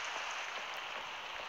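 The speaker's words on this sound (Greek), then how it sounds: "Βρέχει έξω κιόλας" Rain falling outside in the video game Minecraft, a steady broadband hiss of drops on surfaces, even and continuous, with no voices.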